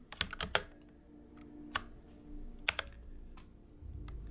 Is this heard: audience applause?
no